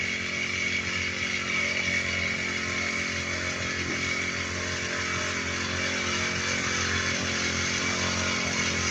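The small engine of a motorized crop sprayer runs steadily in a farm field, a continuous buzzing two-stroke drone at even speed with no voices.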